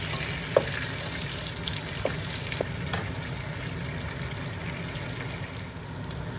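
Pork belly frying in a pan for Portuguese torresmos brancos, a steady broadband sizzle with a few sharp pops and crackles, close and continuous with no talking.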